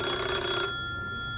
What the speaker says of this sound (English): Wait a minute, I'm getting a phone call.